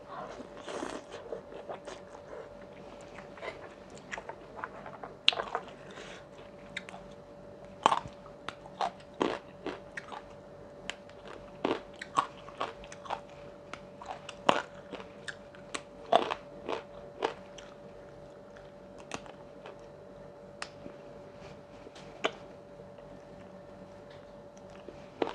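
Someone bites and chews spicy Thai papaya salad made with thin rice noodles, large shrimp and flowers. Close, crunchy bites and wet mastication repeat irregularly for about 25 seconds over a faint steady hum, with no talking.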